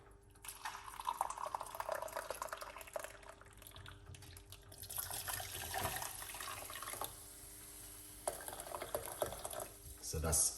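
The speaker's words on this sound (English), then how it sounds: "And we're going to put hot water." Hot water poured into a medium-sized pot in a kitchen, a continuous splashing fill that runs for several seconds at moderate loudness with some background noise.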